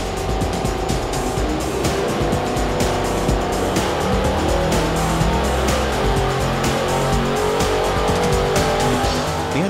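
A powerful race engine roars continuously at high revs on a dyno, loud and steady throughout with dense harmonic buzz, no voices.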